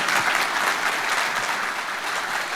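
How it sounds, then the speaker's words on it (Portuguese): A lecture audience claps steadily for the speaker, a dense, even patter of many hands sustained throughout at fairly strong level, with no speech over it. "Pode aplaudir, aplauda."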